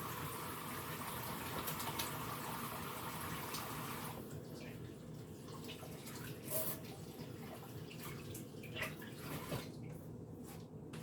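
Oily hands washed under a running tap, a steady broadband rush of water that thins out after a few seconds into lighter splashing and drips, close and continuous with no talk.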